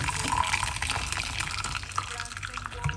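Cucumber ginger tea poured off into a container, a steady close splashing trickle of liquid running for several seconds.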